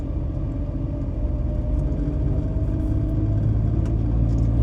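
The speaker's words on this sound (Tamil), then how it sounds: "புது வண்டி தாங்க ஏறுது" A new vehicle climbing uphill on a hill road, a loud continuous low engine rumble that grows slightly stronger over a few seconds, heard from inside or close by, with no talk.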